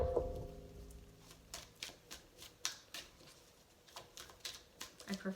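Tarot cards are shuffled by hand in soft, irregular bursts of riffling and papery slaps, faint and close, with short pauses between each flurry.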